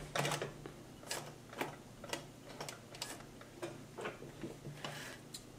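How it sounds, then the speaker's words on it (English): A Consew 229 post bed triple feed sewing machine makes a short series of sharp, evenly spaced ticking stitches, about a dozen quiet clicks close by, as a couple of stitches are sewn back. "And now I'm just going to sew a couple of stitches back."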